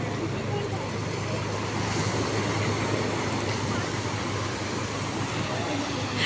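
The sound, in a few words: water waves washing in at the shore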